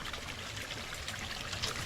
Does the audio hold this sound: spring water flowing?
yes